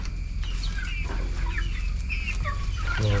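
Several chickens cluck and chatter nearby in short, overlapping calls over a constant low hum.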